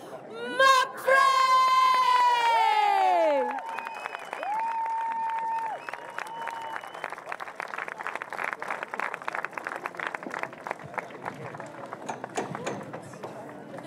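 A loud crowd applauds and cheers at a sailors' parade before a Gothenburg in-port sailing race, starting with high shouts and whoops, then settling into sustained clapping that carries on steadily to the end.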